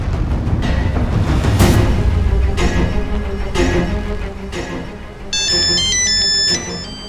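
Muffled background noise and scattered thumps, then a bright electronic ringtone melody plays for about a second near the end.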